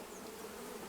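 Honey bees swarm around an open hive, a dense, continuous buzzing hum that holds steady and close for a brief moment.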